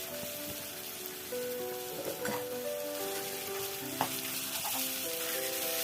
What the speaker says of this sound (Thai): ขยี้ขยี้ให้แตก ๆ นะครับ ผัดให้สุก